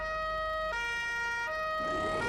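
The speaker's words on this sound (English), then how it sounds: "The lights and the siren started automatically?" A police siren wails in BeamNG.drive, a two-tone alternating pattern switching pitch roughly every three quarters of a second, loud and continuous over a faint engine rumble, with a rushing noise building at the end.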